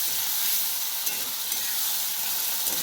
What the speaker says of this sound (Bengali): সুন্দর করে এটাকে ভেজে নিতে হবে ভালো করে, যতক্ষণ না একটু শুকনো শুকনো হয়ে যায়